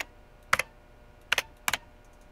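Keypad tapping in the video game Pollen, three short sharp button clicks, the last two close together, each a quick double tap against a quiet background.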